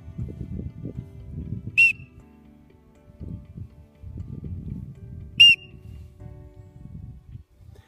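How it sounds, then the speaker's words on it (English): A dog training whistle sounds twice, short sharp high blasts several seconds apart, over low rustling and movement noise outdoors. "charge up the whistle with your dog"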